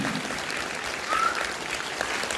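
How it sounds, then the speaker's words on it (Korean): An audience claps steadily together, a dense wash of applause that holds at an even level throughout without fading. "박수 치기 바랍니다."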